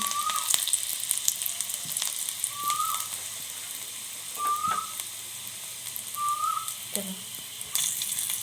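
Five or six garlic cloves fry in oil for chili chicken, giving a soft, steady sizzle with scattered crackles. A few short whistle-like chirps sound in the background, and no one talks.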